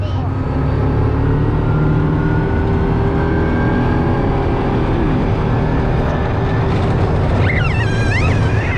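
An ATV engine runs at Denali in Alaska, a loud, steady close-up drone with a constant rough rumble throughout, as if riding along.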